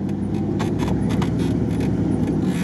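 Suzuki Samurai off-road vehicle driving on rough ground, a steady close engine rumble with rattling and jangling bumps throughout, no talking.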